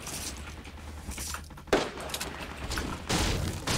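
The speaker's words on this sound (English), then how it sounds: "Ooh, gunfire." Video-game gunfire, with sniper shots and other weapons in a multiplayer battle: scattered cracks and thumps under a busy game mix, one sharper shot standing out partway through.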